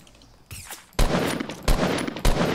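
Several sharp gunshot blasts in the video game Fortnite, each a loud crack with a short decay, fired in bursts after a quieter stretch.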